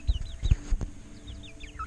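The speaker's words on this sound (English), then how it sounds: "this is our rooster right here" A farm rooster gives short, soft clucks and a few low grunting calls close by, spaced in brief bursts with quiet gaps between them.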